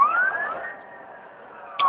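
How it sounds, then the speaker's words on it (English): A New York City emergency siren wails from down the street during a snowstorm, one sweeping rising and falling tone that fades slightly mid-clip before swelling again, alone with no talk. "Hear the New York sirens being New York stupid."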